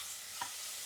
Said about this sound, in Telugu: కొంచెం వేగిన తర్వాత అల్లం వెల్లుల్లి పేస్ట్ వేద్దాం